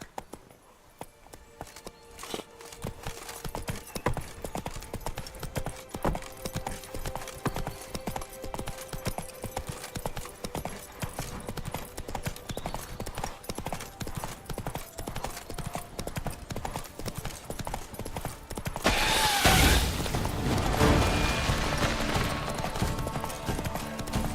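Horse hooves clip-clop at a steady galloping rhythm throughout in The Witcher 3, with a louder burst of noise near the end and no talk.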